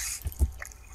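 Water dripping in a video game, two or three soft, wet drips with low plops spaced close together, short and fairly quiet.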